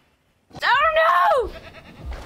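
A small goat in the dinosaur park game Jurassic World Evolution gives one loud wavering bleat lasting about a second, followed by low rumbling game noise.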